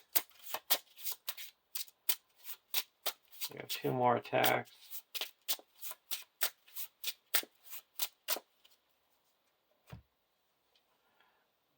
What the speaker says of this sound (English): At least we get to shuffle our deck.